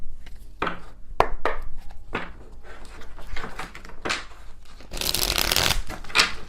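A tarot card deck being shuffled, with repeated riffling bursts of rustling and snapping cards, close and clear, building to a dense flurry near the end; no talking.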